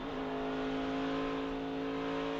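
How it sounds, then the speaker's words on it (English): A NASCAR Craftsman Truck Series race truck engine holds a loud, sustained high drone at the 2024 championship race, with a quick dip and climb in pitch as a gear shifts near the start. "Listen to him shifting."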